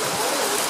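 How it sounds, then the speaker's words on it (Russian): Heavy rain pours down in a dense, steady hiss, close and loud, with no pauses. "Ливень безумный, посмотрите на наш зонтик."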